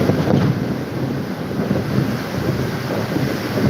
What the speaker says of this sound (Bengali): এই বৃষ্টি হিমঝিম শব্দ সকলের হৃদয় ছুঁয়ে যায়